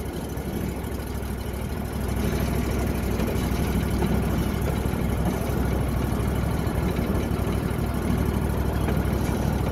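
A vehicle engine runs at a low, steady idle-like rumble while creeping slowly with the parking brake just released, a continuous broadband drone that grows slightly louder after the first couple of seconds.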